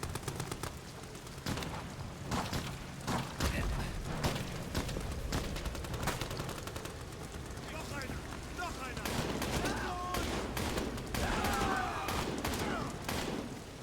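Gunfire in the survival horror game Amnesia: The Bunker, a dense run of sharp shots and bursts over a steady rumbling background, with some voices mixed in.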